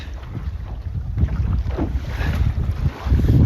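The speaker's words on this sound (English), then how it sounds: "horrible wind right now" Wind gusts buffet a microphone on a small sailing dinghy in light, shifty air, with choppy water sloshing around the hull. The rumbling roar swells and eases, loud and close, and no one speaks.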